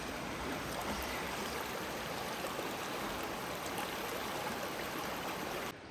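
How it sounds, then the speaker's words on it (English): A small creek flows beneath a little footbridge on the Icicle Gorge loop trail near Leavenworth, Washington, a steady, close rushing and burbling of water throughout. "And a pretty little creek underneath this pretty little bridge."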